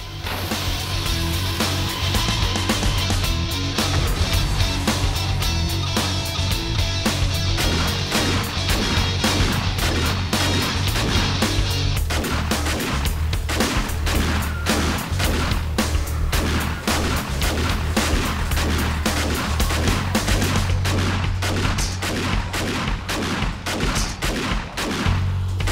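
Turret gunfire in the game 7 Days to Die during a horde night, a dense, relentless barrage of rapid shots and booms continuing without pause across the whole stretch, loud and close.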